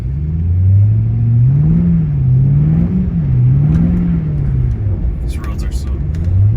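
A car drives over snow-covered roads on plain street tires, its engine a steady low drone that rises and falls slightly while a person talks over it throughout.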